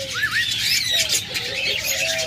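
Caged budgerigars near an egg-laying pot, including a hen carrying eggs, give a nearby string of squeaky warbles and short chirps that overlap as a continuous chatter.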